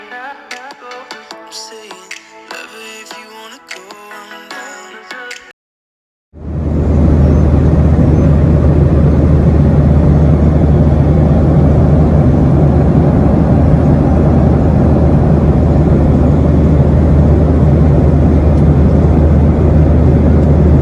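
Jet airliner climbing after takeoff from JFK, bound for Montego Bay, a loud, steady cabin roar of engines and airflow that begins abruptly after a few seconds of music.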